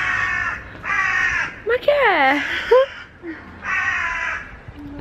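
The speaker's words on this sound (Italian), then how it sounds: "Ci sono tantissimi corvi" Crows in London caw outdoors in several loud, harsh bursts, close by, while someone speaks briefly between the calls.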